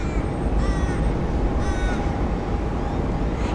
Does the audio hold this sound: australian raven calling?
yes